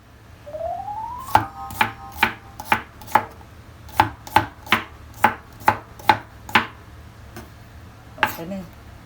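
A small cucumber is sliced for a salad on a cutting board, giving a quick run of about a dozen crisp, evenly spaced knife knocks, close and clear, then a pause and one last chop.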